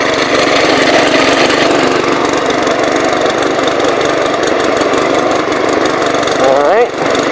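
Hot rod engine running after being fired up: a close, loud and steady mechanical rumble holds throughout, with a brief dip near the end.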